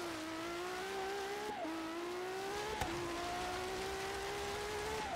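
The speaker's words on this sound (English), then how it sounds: "It's just a Porsche engine." In a video game, a Porsche 918 engine drones steadily with a whining tone that climbs, dips briefly at each gear change and climbs again, heard alone and fairly faint.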